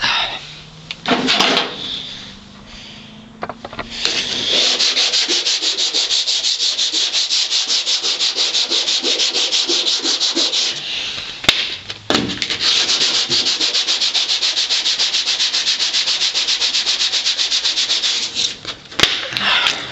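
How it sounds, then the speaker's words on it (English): Sandpaper rubs surface rust off the floorpan of a 1962 Ford Falcon in long, loud, rapid back-and-forth strokes, with short pauses and scrapes between two sustained passes. "Just sand it out, get as close as you can"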